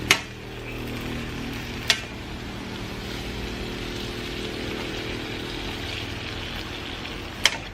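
Patola gourd cooking in a pan with tuna paste, a steady low sizzle and simmer running throughout, broken by three sharp clinks of a utensil against the pan.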